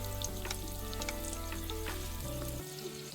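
Pakoras deep-frying in hot oil for a village-style recipe, a steady close crackling sizzle with a low hum beneath that drops away near the end.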